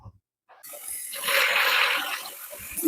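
Cold tap water gushes steadily over cooked wild bird feed grain spawn in a pan, a close, continuous hissing splash that starts abruptly and runs for a couple of seconds.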